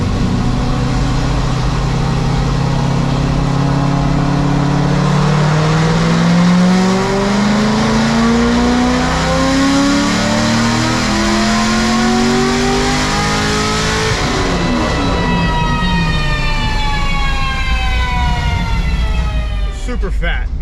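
An LS7 V8 car fitted with a Corsa exhaust revs hard through a sustained pull, engine pitch climbing steadily and loud, then shifting and climbing again near the end, with no talk over it.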